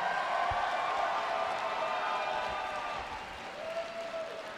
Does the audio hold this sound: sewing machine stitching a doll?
no